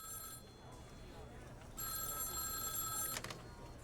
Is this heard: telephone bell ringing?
yes